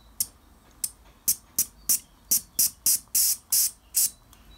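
Steam hisses in a run of about twelve short, sharp bursts, evenly spaced and fairly close, from a Mamod TE1a model steam traction engine building pressure, with faint background noise between the bursts.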